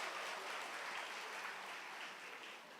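Audience applause for a dance troupe at a church gathering, a soft, even wash of clapping that holds steady and tapers slightly at the end.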